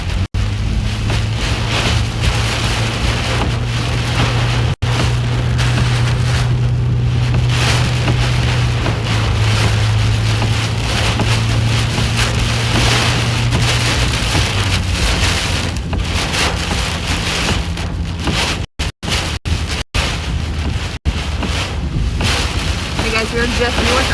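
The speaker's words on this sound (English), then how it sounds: "Big wind." Strong storm wind during a tornado-warning chase in Iowa roars and buffets the microphone without pause, loud and close, with a low steady rumble and a few sharp dropouts near the end.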